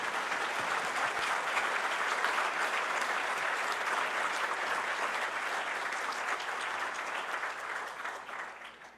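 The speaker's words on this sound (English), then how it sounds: "I suggest a big applause." A conference audience at a high-level forum opening gives sustained applause, a dense wash of clapping that holds steady and then slowly fades toward the end.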